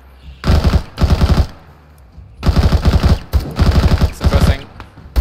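Automatic gunfire in the Arma 3 military shooter, several loud rapid bursts of rounds broken by brief pauses, close and dominant with no voices over it.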